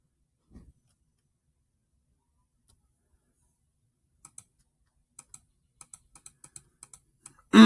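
Mouse or keyboard clicks while playing Roblox Boss Fighting Simulator: a faint isolated tap early on, then after a quiet gap a loose series of about a dozen sharp, close clicks, ending in a brief louder burst.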